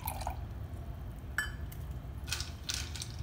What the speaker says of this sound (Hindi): मैंने मिंट का जूस निकाल लिया है, अब उसे इस ग्लास में डालते हैं।